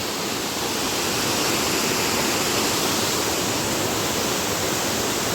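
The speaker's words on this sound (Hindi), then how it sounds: "ये दुनिया का one of the highest waterfall है।" A constant, heavy roar of falling water from a very high waterfall near Cherrapunji, Meghalaya, broad and unbroken, with no voices.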